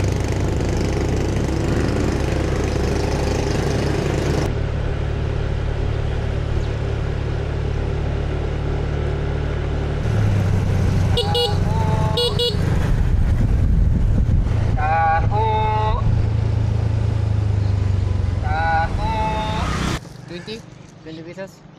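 A vehicle engine drones steadily while riding along a road toward the north tip of an island in the Philippines, with wind buffeting the microphone, bursts of chirpy noise, and a low hum that cuts out near the end.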